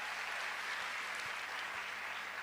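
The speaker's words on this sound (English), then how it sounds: "Give yourselves a big round of applause" An audience at a hospitality summit in a hotel claps for itself; a dense, even wash of applause, moderately loud and continuous for a couple of seconds with no voices.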